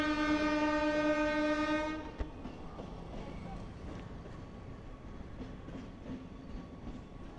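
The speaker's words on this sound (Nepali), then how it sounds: "अहिले चाहिँ फुल रेल आएछ।" A full train at a level crossing sounds a long, loud, steady horn blast that cuts off after about two seconds, leaving a rumbling roar of passing wagons with light rail clatter.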